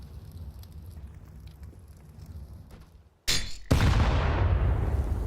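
In a professional Counter-Strike match, a counter-terrorist grenade goes off: a quiet stretch of game ambience, then a sharp crack and a loud explosion that lingers in a decaying rumble.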